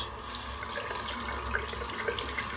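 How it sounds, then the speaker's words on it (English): Running tap water rinsing shaving soap from a boar-bristle brush in a sink, a steady, close splashing gush with small drips and splatters throughout. "I'll rinse the soap out."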